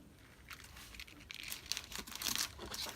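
Paper being cut for an altered fall coffee sleeve, a run of soft crinkly snips and rustles that grow denser and slightly louder toward the end, close up with no talking.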